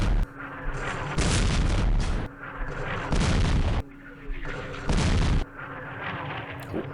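German artillery firing in the war game Campaign Series West Front, a repeating cycle of heavy booming salvos, each a sustained loud blast separated by brief quieter gaps, with faint talk in the background.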